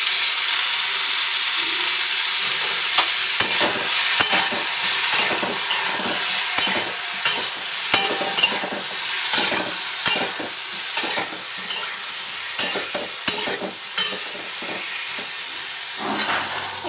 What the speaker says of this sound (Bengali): দিয়ে একটুখানি নেড়ে চেড়ে ভাজবো।